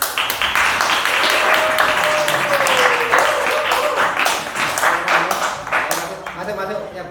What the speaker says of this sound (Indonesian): sebelumnya tepuk tangan dulu semuanya